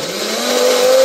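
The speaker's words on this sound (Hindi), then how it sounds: "अब मैं इसको ग्राइंडर में डालूंगी और ग्राइंड करूंगी।" A kitchen mixer grinder runs continuously as it grinds cooled homemade chutney, a loud steady motor whir and churning that climbs slightly in pitch as it spins up, with no voices.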